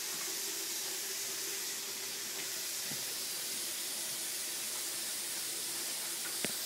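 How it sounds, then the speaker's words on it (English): Hot water runs steadily from a sink tap, a constant soft hiss of flowing water with a single small knock near the end. "I'm going to run the water till it gets very, very hot."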